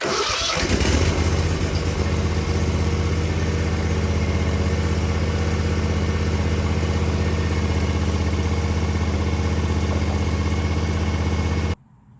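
A small engine with no choke set is started and then roars continuously at a steady, loud idle for about eleven seconds before cutting off abruptly.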